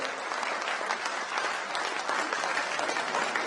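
A crowd at a Hindi poetry gathering in Gwalior breaks into loud, sustained applause, many hands clapping densely and evenly for several seconds with no talk over it.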